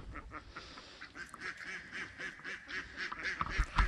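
Ducks being fed quack repeatedly in rapid, overlapping bursts close by, a busy chorus of nasal calls with some goose-like honks mixed in and soft splashing and movement underneath.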